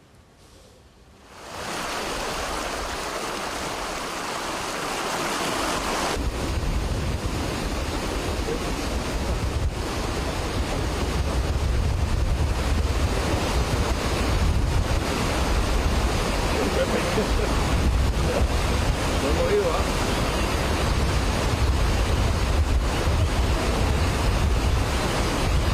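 The Desagüe river at Bajos del Toro de Sarchí, Costa Rica, swells into a torrent after heavy rain. It roars in a loud, continuous broadband rush that builds after a quieter first second and stays dense throughout.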